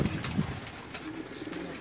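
Pigeons on a rooftop loft in Jeddah give soft, close coos and rustle over a steady background murmur.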